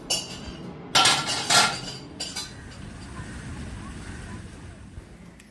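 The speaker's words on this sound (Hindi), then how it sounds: "आज इन लोग पूरा किचन समेट रहे हैं, जो नाश्ते के बाद वाला बर्तन है।" Dishes, pots and cutlery clatter and clink in a home kitchen while being cleared away after breakfast, a few loud knocks early on, then quieter rummaging fading into background hiss.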